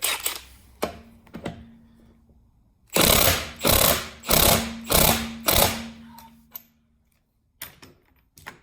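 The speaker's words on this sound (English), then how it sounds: "So I was getting a lot of rattling on the end of the gun there." An air impact gun hammers in five loud, rapid bursts, rattling as it works on an over-tightened locking wheel nut, with a few shorter clicks and knocks before and after.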